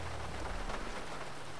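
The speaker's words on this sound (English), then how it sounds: "Gosh, it's so damn rainy. Why is it raining so much?" Steady, dense rain hiss from a downpour in Grand Theft Auto 5, continuous and evenly loud throughout with no breaks, no thunder and no voices.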